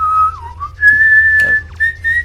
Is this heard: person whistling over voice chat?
yes